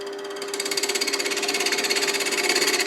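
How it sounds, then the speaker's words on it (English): A parting tool marks a spinning piece of wood on a lathe, a loud, rapid rhythmic chatter that starts after half a second and pulses evenly over a steady whine. "Let me just mark it with a parting tool a little bit."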